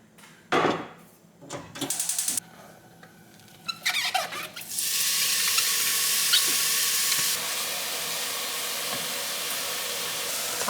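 Stir-frying in a large cast iron pot: a few knocks and scrapes at first, then a loud, steady hiss of sizzling that carries on to the end.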